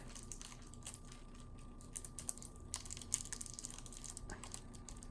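Shrink wrap is peeled and crinkled off a KeyForge card deck, close up, with irregular small crackles and snaps scattered over a quiet background.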